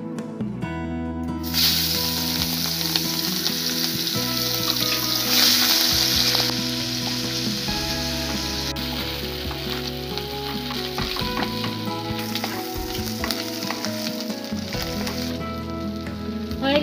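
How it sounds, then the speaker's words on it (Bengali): Fish fries steadily in well-heated oil in a pan, giving a dense, continuous sizzle and crackle from start to finish, close and loud with no talking. "এবার মাছগুলো ভেজে নেবো"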